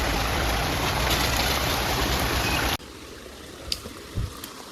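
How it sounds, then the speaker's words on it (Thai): Rainwater rushing down a mountainside after a storm makes a loud, steady broadband wash that suddenly drops to a quieter flow partway through, with a few faint knocks afterward. "ฝนตกแล้วก็น้ำไหลลงมาจากภูเขานะครับเนาะ"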